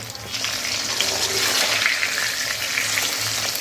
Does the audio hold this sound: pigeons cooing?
no